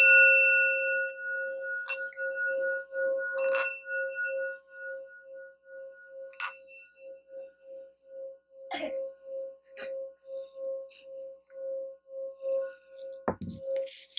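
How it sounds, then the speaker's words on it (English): A singing bowl struck and left to ring, a pure sustained tone with a steady pulsing shimmer, quiet and close, with small knocks and taps around it. "let's ring the bowl,"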